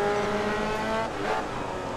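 Race car in Grid Autosport braking hard, a loud steady engine tone dropping away with a brief tire scrub near the end, continuous and close throughout.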